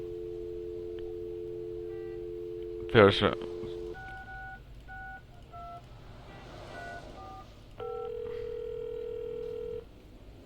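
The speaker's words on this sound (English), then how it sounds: "You pick up the phone, and to your delight, you get a dial tone." In the game Leisure Suit Larry: Reloaded, a steady telephone dial tone cuts off, followed by a series of short dialing beeps and then another long tone, with a voice speaking briefly.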